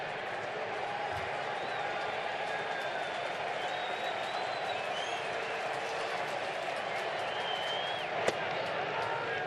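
A baseball stadium crowd at an NLDS playoff game keeps up a dense, distant roar of cheering and applause, with a commentator talking over it throughout.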